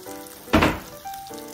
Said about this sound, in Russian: Теперь будем жарить.